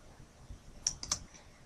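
Numbers are typed on a computer keyboard in a quiet room, a brief run of three or four soft, close key clicks lasting under half a second.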